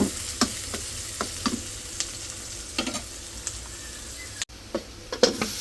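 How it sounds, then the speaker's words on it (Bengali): Onion lightly frying in a pan, with soft intermittent sizzles and occasional stirring clinks and scrapes at close range, no voices. "পেঁয়াজটা একটু হালকা ভেজে নিলাম"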